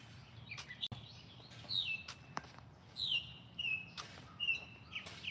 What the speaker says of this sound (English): Do y'all hear the birds?